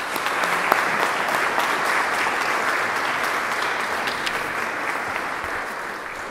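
An audience claps warmly to welcome a lecturer, a dense, steady round of applause in a hall that holds evenly for several seconds without any voices.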